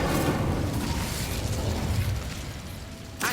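A fire spell cast in the video game Hogwarts Legacy: a loud, sustained whooshing burst of flame that roars from the start and slowly fades, with a short sharp crackle near the end.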